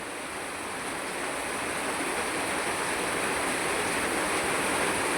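Floodwater rushing around a flooded village house after a sudden downpour, a loud, dense, continuous wash of water noise that holds steady from start to end with no voices.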